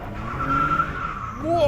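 A Mercedes SLK32 AMG with a slight exhaust leak does a burnout, its tires squealing in a drawn-out, wavering screech over engine rumble that rises again at the end, heard fairly close.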